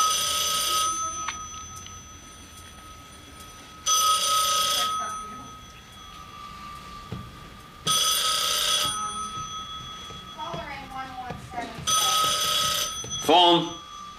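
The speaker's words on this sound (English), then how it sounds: "Phone. Somebody. Phone." A telephone bell rings at a General Motors plant during 1984 UAW strike negotiations, sounding in four loud, evenly spaced bursts of about a second each. People talk between the rings.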